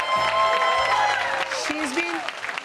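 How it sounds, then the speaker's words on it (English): An audience on a stage event applauds to welcome a speaker, with a brief, moderate burst of clapping and crowd noise rising under a voice that talks over it. "Let's give her a big applause,"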